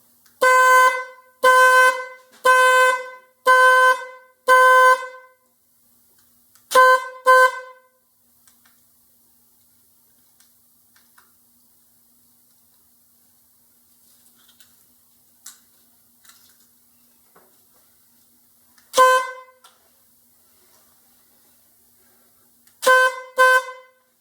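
A car horn triggered by an aftermarket remote lock controller honks in a rapid burst of five short beeps, then a double beep, a lone beep later, and another double beep, with quiet gaps.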